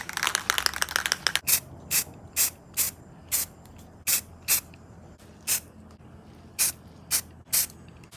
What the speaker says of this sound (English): just spot spray those little trouble areas real good